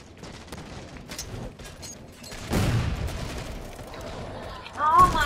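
Gunfire in the Halo 4 multiplayer Infinity Slayer match, scattered shots and a heavier burst of fire mid-clip under game effects, fairly faint in the mix.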